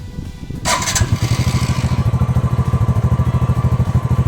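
A TVS Radeon commuter motorcycle engine cranks and fires up, then settles into a steady, throaty idle with a regular pulsing exhaust beat, close and loud.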